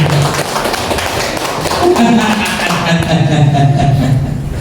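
An audience at a seminar clapping their hands, a dense, steady round of applause filling the room, with a few voices and some laughter underneath.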